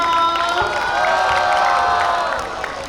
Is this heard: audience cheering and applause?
yes